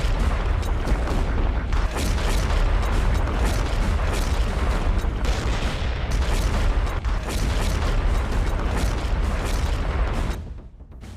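Artillery guns fire in a dense, continuous barrage of loud booms and cracks, overlapping heavily for about ten seconds before cutting off abruptly near the end.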